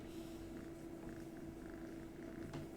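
Cat purring close up, a soft steady rumbling purr that continues with an even rhythm at a low level.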